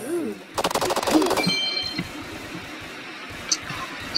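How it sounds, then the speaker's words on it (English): Automatic gunfire from a gun in a Roblox zombie video game fires as a rapid burst of sharp cracks for about a second, followed by a few fainter clicks and pops over background noise. "So I'm just gonna be shooting right here."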